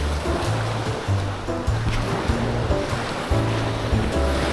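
Ocean waves wash onto a sandy beach at a resort in Sariaya, Quezon Province, a steady, close rushing surf that rolls on without a break and has no talk over it.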